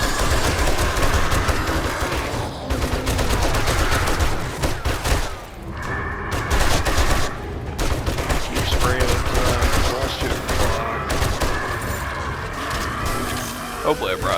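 Rapid, loud gunfire from the survival video game 7 Days To Die rattles almost without pause, with heavy bursts and thuds layered over a voice talking throughout.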